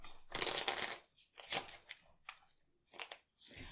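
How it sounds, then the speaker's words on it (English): Playing cards for a tabletop card game shuffled by hand, several crisp riffling bursts, close and clear, the longest first and shorter ones following, alone without talk. "we take the cards, shuffle back up"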